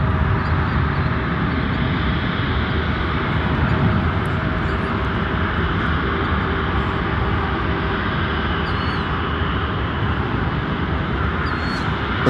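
A jet airliner taxiing at Chicago O'Hare airport gives a steady, continuous engine roar with a constant whine, loud and unbroken throughout with no voices.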